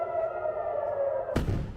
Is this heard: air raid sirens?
yes